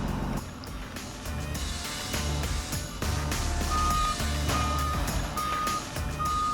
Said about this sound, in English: You will hear a beep.